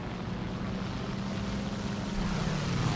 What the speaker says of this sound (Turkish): Bir sürü uçak geliyor.